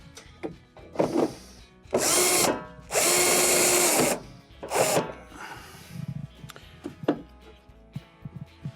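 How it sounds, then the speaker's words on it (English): A power drill drives two No. 2 Phillips screws into a KitchenKaid washer console during a suspension spring repair, with loud whirring bursts of a few seconds each, separated by clicks and handling clatter. "we'll install our 2 number 2 Phillips screws"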